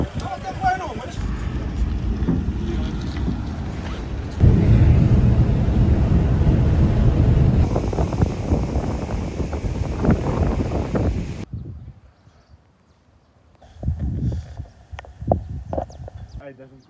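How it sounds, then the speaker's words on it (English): Gusty wind in Cape Verde buffets the microphone with a loud low rumble, dropping briefly before returning in bursts; a voice is heard under the noise. "It is windy."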